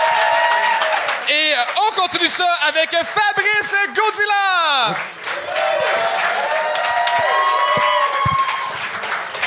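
A live comedy show audience applauds and cheers a comedian near the end of his set, the clapping rising under an emcee's loud talk and fading as the next comedian starts speaking.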